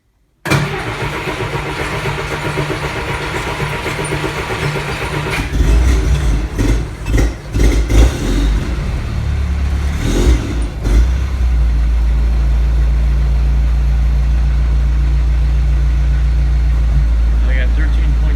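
A Jeep CJ5 engine cranks and catches on a cold start, then settles into a loud, steady idle close by. Brief speech is heard over the start.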